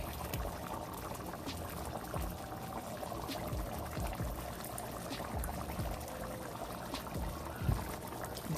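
A mixture being poured into a simmering pot of Southern black-eyed peas, a soft continuous liquid pour and bubbling at low volume with faint kitchen clatter.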